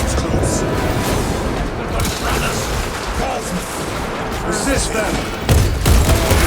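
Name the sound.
small arms gunfire in Warhammer 40K Space Marine 2 video game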